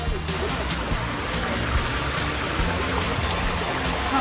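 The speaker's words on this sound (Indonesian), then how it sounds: "Ada air sungai, guys." River water flows and rushes in a steady, broad wash, close and continuous, with no break.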